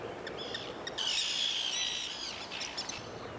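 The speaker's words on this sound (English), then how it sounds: "The common tern nests in noisy colonies of several dozen pairs. With so many birds around, silence is impossible." A nesting colony of common terns calls from a gravel bar along the Drava River in Croatia, with sharp, high chirps and a dense burst of overlapping cries in the middle, heard outdoors without talk.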